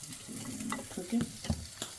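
Food crackles and sizzles in a hot pan, cooked until crispy, with soft stirring scrapes and small pops over a steady frying hiss.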